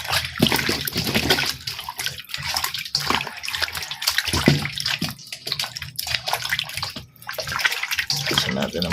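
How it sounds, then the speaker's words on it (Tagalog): Food is washed by hand under a running tap, with close, loud splashing and a continuous flow of water that rises and dips with the handling, and a voice speaks over it at times. "Hugasan natin ng maigi."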